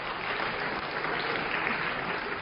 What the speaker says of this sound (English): So a round of applause for these 2.